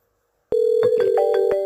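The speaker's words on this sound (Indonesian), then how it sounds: "Akan muncul nada dering bahwa telepon yang masuk ke 1000 akan dialihkan pada 3000" A telephone tone plays during a call forwarding test on an extension system, a steady electronic tone starting abruptly and joined by a series of rhythmic pulsed beeps and shifting tones, loud and clean.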